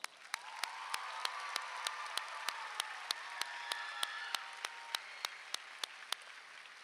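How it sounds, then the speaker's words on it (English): Sustained audience applause at a high school graduation ceremony, steady and moderately distant, with a sharp rhythmic clap standing out in regular beats above the crowd throughout. "Let's give these four a round of applause."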